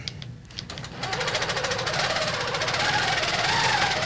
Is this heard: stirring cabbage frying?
no